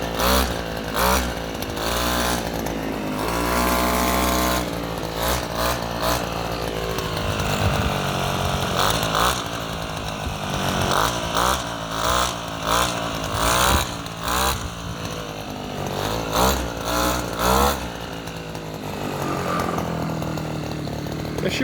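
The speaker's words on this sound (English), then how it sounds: "there's a 2-stroke cold startup" A smoky two-stroke scooter engine cold-starts and runs steadily, its buzzy rasping drone loud and close, with repeated throttle blips swelling the revs throughout.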